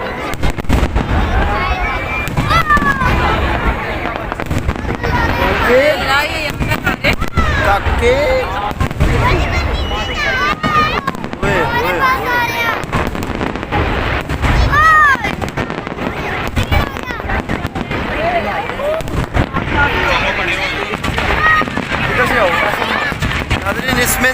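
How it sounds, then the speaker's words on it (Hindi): New Year fireworks crackle and pop continuously with whistling streaks rising, while people talk and shout nearby throughout. "मुख्तलिफ कलर की आतिशबाजी"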